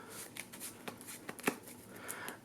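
A deck of Yu-Gi-Oh cards is shuffled by hand, giving quick soft riffling and snapping bursts close up at low volume with no talk.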